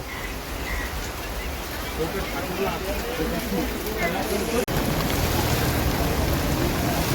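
Heavy monsoon rain pours steadily at an open market in Panvel, a dense continuous hiss that stays even and loud throughout, with a brief click partway through.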